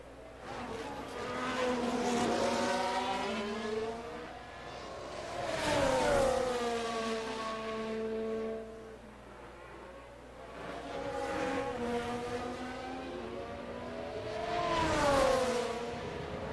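Race cars in a racing video game, engines swelling and fading as they pass in repeated rising and falling whines, with a sustained motor drone between passes and no talk.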